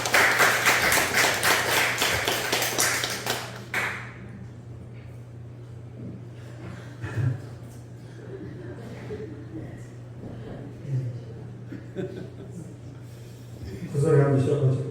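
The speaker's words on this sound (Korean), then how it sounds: "박수 한번 해주시죠." A church congregation claps briefly in a burst that quickly dies away, followed by a quiet room with a low steady hum and a few scattered knocks and shuffles.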